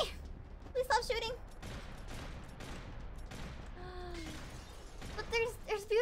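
Gunfire in Max Payne 3, with scattered shots and crackling bursts mixed with glassy shattering, loud in places over steady game ambience.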